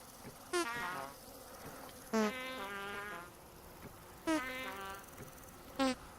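Buzzing bees swarm in the survival game Vintage Story, several rising buzzy bursts coming and going over a faint steady drone, fairly quiet with no one talking.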